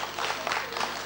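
An audience applauding at a family creativity festival in Peschanka in 2011, a short burst of dense, even clapping throughout.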